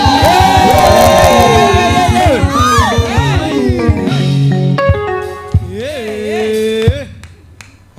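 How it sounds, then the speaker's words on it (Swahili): A church congregation at a Sunday service cheers and shouts praise to Jesus, a loud crowd roar with whoops over steady rhythmic music that thins out midway, leaving sustained tones and scattered voices. "Pigia Yesu shangwe."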